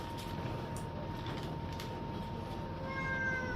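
A small cat meows a few times over a steady background hum in a home kitchen, the cries close and plaintive, with no one speaking.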